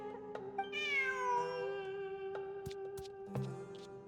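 A cat in the video game Genshin Impact meows several times in drawn-out, rising and falling calls, fairly clear and close, with a few soft clicks between.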